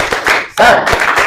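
A classroom of students performing a rhythmic tepuk semangat spirit clap in unison, sharp clap bursts falling in a quick patterned sequence over about a second, loud and close.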